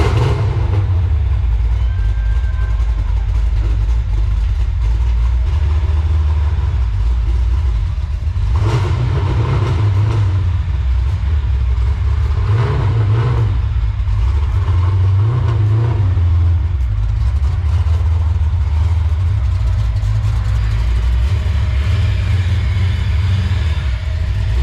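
A 1993 Ford Mustang Cobra R Fox Body V8 runs steadily indoors, a deep, loud continuous rumble with a few mild swells in revs, no talking over it.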